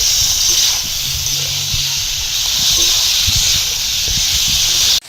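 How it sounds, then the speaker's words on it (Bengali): Spice paste of coriander leaf, green chilli, salt, turmeric and chilli powder frying in a pan, a loud continuous sizzling hiss with faint clinks and low bumps of stirring. "ভালো করে মশলাটাকে কষিয়ে নেব।"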